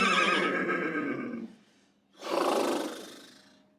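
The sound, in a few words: performer imitating a horse whinny, War Horse puppet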